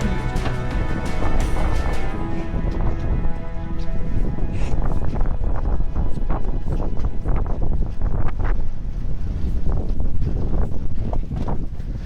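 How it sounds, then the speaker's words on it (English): Heavy wind buffeting the microphone, a loud continuous low rumble with gusty thumps and rustling throughout. "You can probably tell the wind's picking up quite a lot"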